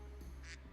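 A voice imitates a duck quack to stand in for a tabletop game character's footsteps, a single short nasal quack, faint and brief against a low, noisy background.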